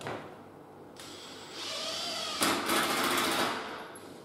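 Close, loud bursts from an impact driver driving screws while a door is hung, with a short whir followed by harsher rattling hammering, no talk.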